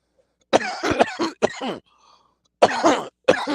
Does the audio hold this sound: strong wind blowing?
no